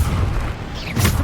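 The Bombarda explosion spell in the video game Hogwarts Legacy, producing heavy rumbling blasts that fill the whole stretch, with a second louder boom near the end.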